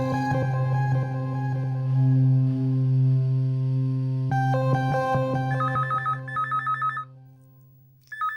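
A telephone rings for an outgoing call as a drawn-out tonal ring over a droning musical bed, followed by a few shorter repeated electronic ring pulses, loud and with no one speaking.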